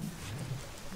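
Steady rainfall in the Call of Juarez Gunslinger video game, a brief soft wash of drops with a low rumble beneath, heard alone.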